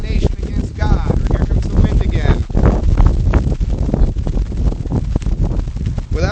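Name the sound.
wind blowing into the microphone outdoors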